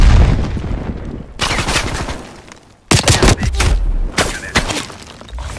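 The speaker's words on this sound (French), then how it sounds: "Grenade lancée." A grenade going off in Call of Duty: Black Ops Cold War during a close firefight, with loud sharp blasts and bursts of gunfire cutting in and out over several seconds.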